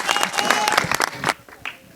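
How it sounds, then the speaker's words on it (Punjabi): A small gathered crowd claps in a dense, quick patter of applause, close by and fairly loud, tapering off toward the end with brief voices mixed in. "ਇੱਕ ਤਾੜੀ ਜ਼ਰੂਰ ਲਾ ਲਿਆ ਕਰੋ"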